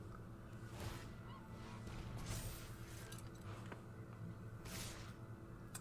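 Geese honk repeatedly in the MTG Arena card game, with several short bright calls over a steady background of game music and ambience, moderately loud and spread across the whole stretch.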